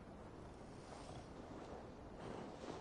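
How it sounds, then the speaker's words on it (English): Stormy sea and gusting wind in Assassin's Creed Valhalla, a steady broadband roar of surf and wind that swells slightly toward the end, with no talking. "Windy. Storm coming."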